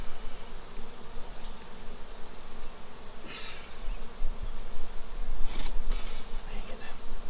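Honeybees buzz steadily inside an opened beehive under inspection, a dense continuous hum close by, with a few brief sharper passes from bees flying near.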